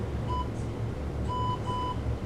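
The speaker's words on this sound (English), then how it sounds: "So that's the timer." A hangboard workout interval timer gives short electronic beeps, one single tone then two more in quick succession, clear against a steady background noise.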